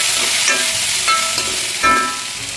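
Tomato and onion with curry leaves sautéing in a hot pan, a steady close sizzle broken by a few soft stirring scrapes, with no voices.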